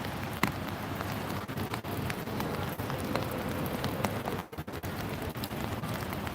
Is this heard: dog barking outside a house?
no